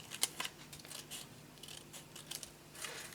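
Scissors snipping through canvas for a handmade accordion book, a few quick, faint close-up cuts with light rustling in between.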